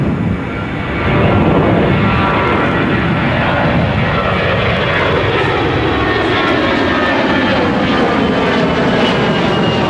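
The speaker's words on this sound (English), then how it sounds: "Qatar 787 is coming in right now here on runway 26 left at London Gatwick." Qatar Airways Boeing 787 landing on runway 26L at London Gatwick, arriving from Doha; a loud, steady roar of jet engines that swells in the first second and then holds strong and close to the end.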